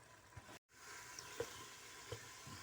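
Chicken and potatoes for aloo chicken korma frying with spiced yogurt in a pan, a soft steady sizzle with a few faint stirring clicks.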